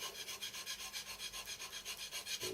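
A sharp hand scraper works across a metal surface on a home-built Gingery milling machine's compound slide, heard as a faint, steady rasping rhythm of about twenty even back-and-forth strokes.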